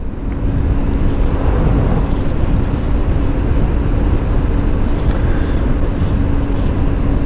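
Steady motorbike riding noise in drive mode, a continuous low engine rumble and road and wind roar close by, with a faint hum, running evenly throughout with no talk.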